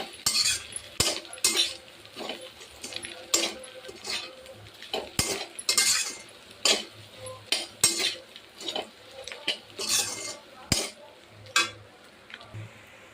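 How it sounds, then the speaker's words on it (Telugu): A spoon stirring and scraping a homemade masala mixture in a pan for egg fried rice, with repeated metallic clinks and scrapes in an uneven rhythm, close and fairly loud. "ఇప్పుడు ఇదంతా కూడా మనం కలిపేసుకుందాం"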